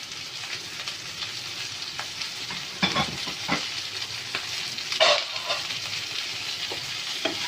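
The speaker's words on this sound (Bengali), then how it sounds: "টমেটো কুচিটা দিয়ে আমি একটু নাড়িয়ে নিয়ে" Chopped tomatoes, added after green chillies while cooking Bengali-style kochur doga (taro stems), are stirred and fried in a pan: a steady close sizzle broken by a few sharper scraping stirs, with no voices.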